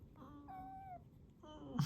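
A pet cat lets out two faint, drawn-out meows indoors with a short pause between them, followed by a brief rustle.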